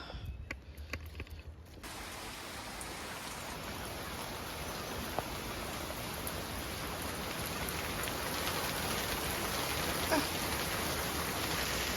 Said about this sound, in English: We're getting hail.